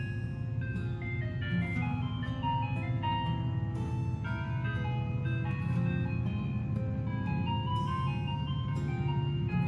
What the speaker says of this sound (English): I turn my eyes to fall upon the approaching truck